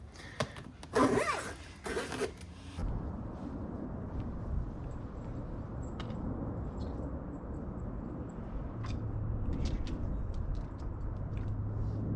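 The zipper on a Sepnine pet bike trailer gives a couple of quick, close rasping pulls at the start, followed by quiet handling noises and faint clicks.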